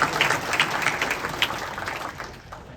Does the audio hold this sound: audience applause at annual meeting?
yes